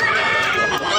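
A rooster crows loudly and close for about a second at a crowded Sunday cockfighting market in Tabunok, Talisay, Cebu, with voices around it.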